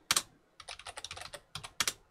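Keystrokes on a computer keyboard while entering a terminal command on an Ubuntu Linux server: crisp, close clicks, one isolated tap, then a rapid run of keys and two final strokes, with no talking.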